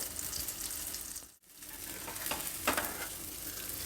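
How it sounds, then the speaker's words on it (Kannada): Chickpea garlic kebabs fry crisp in a pan with a steady close sizzle, punctuated by a few brief bursts of stirring or turning and one short dip near the middle; no talking. "ಎರಡೂ ಕಡೆ ಚೆನ್ನಾಗಿ ಗರಿ ಗರಿ ಆಗೋವರೆಗೂ ಬೇಯಿಸ್ಕೊಳ್ಬೇಕು"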